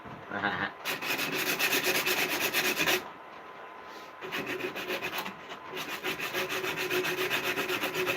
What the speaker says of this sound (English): Good old trusty sandpaper.